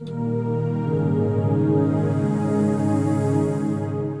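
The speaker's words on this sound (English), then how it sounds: "That's playing with the modulation wheel, and you can see the way that sounds." A sustained, loud synth pad holds a rich chord while its tone gradually shifts and brightens as the modulation wheel is swept slowly.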